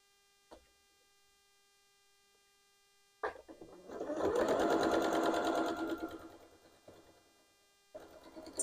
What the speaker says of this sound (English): over to the sewing machine to sew this down